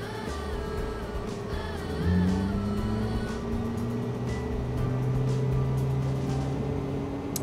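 Engine one of an Airbus A330-900 spools up in Microsoft Flight Simulator 2020, a steady cockpit hum joined by a rising whine that climbs and holds, with no one speaking.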